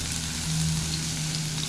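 Onion for karela (bitter gourd) frying in hot oil, a steady close sizzle that stays even and continuous, with a faint low hum underneath.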